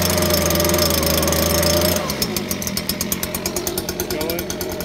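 STIHL BG56 C-E gas leaf blower cold-started on full choke, a loud small two-stroke engine that races steadily at first, then drops to a rough, pulsing, sputtering idle as it settles.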